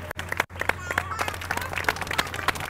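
Studio audience applause on a Samaa TV talk show, a dense, even patter of many hands clapping close by over a low steady hum, with a couple of brief dropouts near the start.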